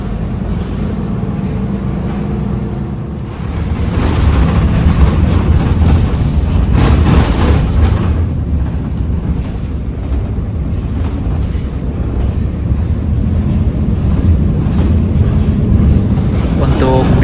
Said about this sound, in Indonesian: Lewat perumahan, bis lewat perumahan.